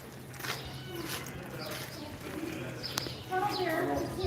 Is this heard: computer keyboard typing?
no